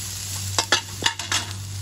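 Onion sautéing for sinigang, a low steady sizzle under a constant hum, broken by several short scraping stirs close by, with no one talking.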